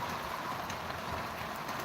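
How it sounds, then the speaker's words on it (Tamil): Steady summer rain pours down in Tenkasi, a dense continuous hiss of falling water with no breaks, fairly loud and close throughout, with no voices. "தென்காசியில் தற்போது நல்ல மழை பெஞ்சிட்ருக்கு"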